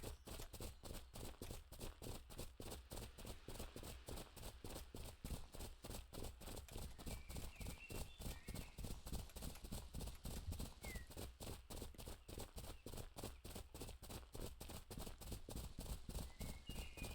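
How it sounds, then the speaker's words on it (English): Horse hooves clip-clopping at a steady trot in a video game, a fast even rhythm of sharp hoof strikes continuing throughout, close and loud, with faint background sounds. "Whoever heard of a fucking horse that just stops?"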